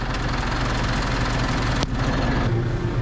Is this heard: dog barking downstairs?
no